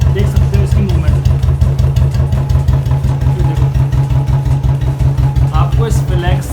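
A Royal Enfield Bullet motorcycle idles while parked, its single-cylinder engine thumping in a steady, loud, close rhythm with mechanical clatter throughout.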